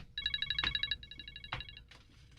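A cellphone rings with rapid electronic trilling bursts in a repeating pattern, fairly faint, accompanied by a couple of soft knocks and thumps in the room.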